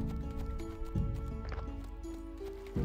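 Donkey combat unicorns carrying magic pumpkins trot along in Graveyard Keeper, a steady clip-clop of hooves under game music with a brief whinny-like cry.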